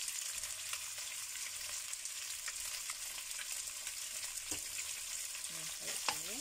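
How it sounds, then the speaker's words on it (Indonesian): Bitter melon and smoked fish stir-frying in a pan, a steady close sizzle and crackle with a few brief scrapes and stirring clatters toward the end. "Pare dioseng dengan ikan asap ini sangat enak ya teman-teman ya"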